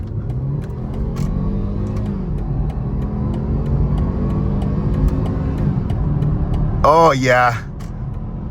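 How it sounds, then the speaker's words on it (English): A BMW G20 320i on new Radar Dimax R8+ tyres accelerates at full throttle, its engine rising in pitch through steady close cabin rumble, followed by a short shift and an excited voice cheering. "let's pin the throttle to the floor and see what happens."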